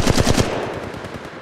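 Rapid burst of automatic machine gun fire in the Apex Legends Mobile video game, about eight close, loud shots in quick rhythm that trail off into a fading echo.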